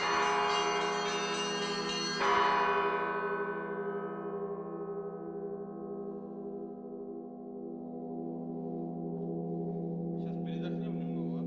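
A large bell at the Solovetsky monastery is struck with a bright clang, and its deep, rich tone rings on and slowly fades as the hum lingers; a faint higher chime sounds near the end.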